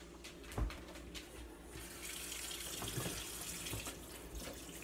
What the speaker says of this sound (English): We gotta rinse out the sink.